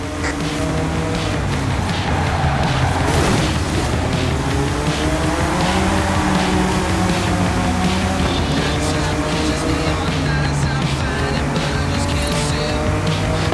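A racing car's engine roars steadily and loudly throughout a Forza Horizon 5 Hot Wheels event, with rising and falling revs, a burst near the third second and brief tire squeal over a constant wash of game noise.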